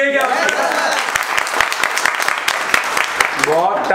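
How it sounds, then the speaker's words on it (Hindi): A classroom of about 28 to 30 students in a phone repair training session breaks into brief clapping, sharp rapid claps under and between a man's speech. "इस बात के लिए ताली बनती है क्या?"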